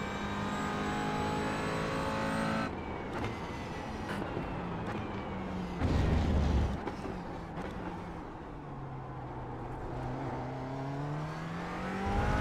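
A McLaren 570S GT4 in iRacing on a hot lap: the engine drones and rises through the revs, drops at a gear change, swells loudly again, then pulls steadily upward, with no voices.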